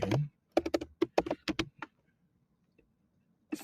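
Quick bursts of keystrokes clatter on a computer keyboard, a dozen or so close taps in an uneven rhythm, then a pause with a stray click and one more tap at the end.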